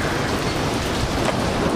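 Hail pelts down in Boston, a dense, loud, continuous rattling hiss of stones striking surfaces nearby, steady from start to end with no speech.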